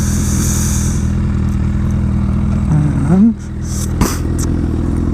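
A 2013 Honda CBR 1000RR motorcycle engine idles with a steady low rumble, a brief rev swelling near the end as the bike is maneuvered and backed onto its kickstand, with a short word spoken over it.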